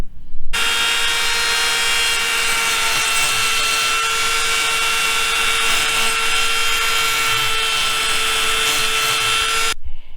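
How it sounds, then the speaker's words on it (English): A Dremel rotary tool grinds material away from the motor mount of a Wltoys 144001 RC car, a loud, steady high-pitched whine that runs nearly unbroken from start to finish and cuts off abruptly. "quite a fair bit of material away from the motor mount with the Dremel just to get it to fit in"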